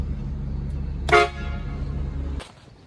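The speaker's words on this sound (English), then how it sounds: "I'm going to be installing an air horn in my 2019 Ford F-350" Air horn fitted to a 2019 Ford F-350 truck gives one loud, brassy blast of about a second that cuts off sharply, over a steady low idle rumble that stops shortly after.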